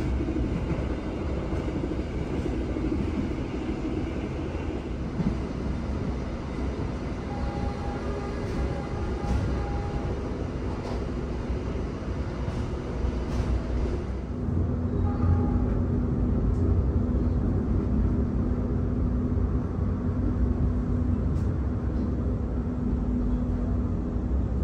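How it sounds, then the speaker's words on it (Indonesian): Gajayana passenger train travelling at about 120 km/h, a loud steady rumble and rolling roar that fills the whole stretch, swelling slightly partway through, heard from close by without talk. "Tadi juga kereta api Gajayana melaju sampai dengan 120 ya teman-teman."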